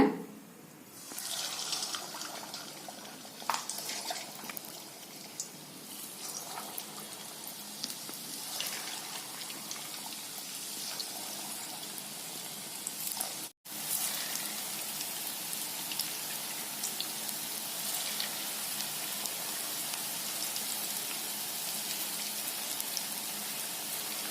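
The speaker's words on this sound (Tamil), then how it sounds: "கோதுமை போண்டா பாருங்க எண்ணெயில போட்டோம்னே பாருங்க நல்லா உப்பி வருது பாருங்க" Wheat bonda batter drops into hot oil in a kadai and fries with a steady, dense sizzle and crackle that runs for over twenty seconds, close and moderately loud, with one brief break midway.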